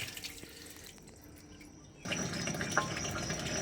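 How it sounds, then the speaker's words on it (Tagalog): Water pouring strongly into a container from a tap or hose, a quiet steady rush that jumps to a fuller, louder gush midway and keeps flowing. "Lakas na ng tubig."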